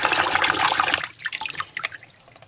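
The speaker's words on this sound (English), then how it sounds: "And what we're looking to do is wash out all this lot." Running water rinses slime and muck out of a Franklin CX22 caravan water pump part, a close, loud splashing gush that then breaks into irregular spattering and dribbles as the flow is moved about.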